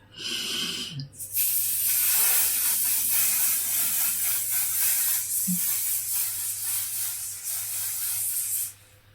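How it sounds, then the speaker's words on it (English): A short burst, then a long continuous hissing spray lasting several seconds, close and fairly loud, stopping abruptly near the end. "I'm going to set with my One Size setting spray"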